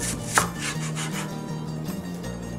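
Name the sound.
chopping onion very finely for Middle Eastern omelet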